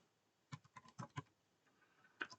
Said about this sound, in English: No, I'll just type it in, it's fine.